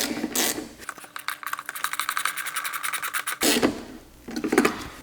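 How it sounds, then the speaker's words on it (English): A worm-drive hose clamp is tightened onto the rubber air filter hose of an FD Mazda RX-7, giving a fast run of close, sharp ratcheting clicks between brief handling rustles, with no talk. "since I'm using a worm clamp, I'm going to start tying it down"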